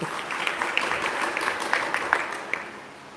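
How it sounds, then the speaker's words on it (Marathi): Audience applause at a Janmashtami katha festival gathering, a steady patter of many hands with a few sharper individual claps standing out, moderately loud and continuous throughout. "टाळ्या वाजवा त्यांच्यासाठी"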